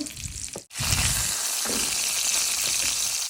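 Fish masala being sautéed in a pan, a dense, loud sizzling hiss that cuts out briefly near the start and then runs on steadily, with faint stirring knocks underneath.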